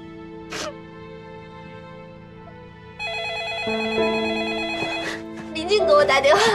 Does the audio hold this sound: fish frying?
no